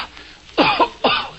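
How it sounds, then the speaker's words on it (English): A man coughs twice, close and fairly loud, in two rough harsh bursts about half a second apart with no talking around them. "This cough."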